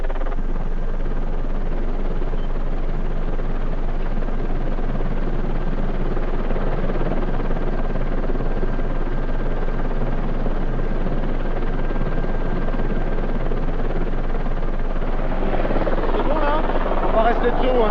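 Helicopter rotor roar during a difficult manoeuvre, steady and loud throughout, with a constant whine and throbbing drone that grows harsher and more strained near the end.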